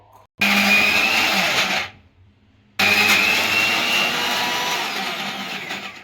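Kitchen mixer grinder blending grated coconut, green chillies, roasted chana dal, curd, salt and water into chutney: two loud, steady high-pitched whirring runs with a short pause between them, no talk.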